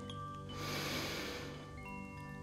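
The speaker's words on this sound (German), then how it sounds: "Der Flick schnauft tief ein" A character in a German bedtime audio drama snorts in one deep breath through the nose, a soft, breathy rush that swells and fades over about a second against quiet background music.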